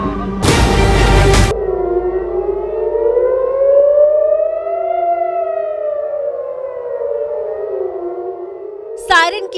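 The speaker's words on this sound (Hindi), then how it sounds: "सायरन की आवाजों को सुनकर सिर्फ इजराइल नहीं बल्कि पूरा विश्व चौकन्ना हो गया था।" Civil defense air raid sirens in Israel wail in slow rising and falling tones. A short, loud burst of noise sounds before them, and a brief sharp chirp sounds near the end.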